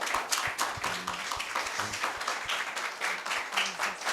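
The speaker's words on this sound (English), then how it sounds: "Can we clap for the Lord?" Church congregation clapping during worship, a moderately loud, somewhat rhythmic run of handclaps with faint voices underneath.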